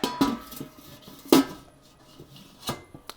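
A metal lid clatters onto a cooking pot holding pork and salmon sinigang, two sharp clanks followed by a lighter knock, close and alone.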